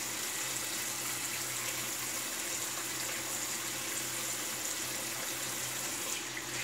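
A bathroom tap runs in a steady, unbroken hiss of flowing water while a man prepares to shave, filling the whole stretch at an even, moderate level with no speech.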